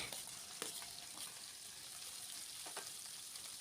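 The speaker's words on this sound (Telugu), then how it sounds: "నూనె వేడయ్యాక ఇందులోకి బెండకాయలు వేసుకొని మంచిగా ఫ్రై చేసుకోవాలండి" Okra pieces frying in hot oil in a pan, a steady soft sizzle with a few faint stirring scrapes, fairly quiet and even throughout with no talking.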